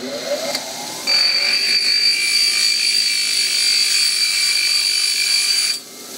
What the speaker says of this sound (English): I'm going to grind off this raised piece here.